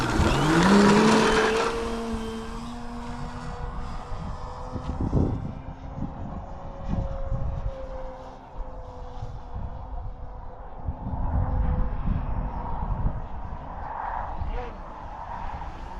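Extreme Flight 60-inch Laser RC plane flying, a whining electric motor that rises and falls in pitch as it passes and maneuvers, fairly distant, with brief talk near the start.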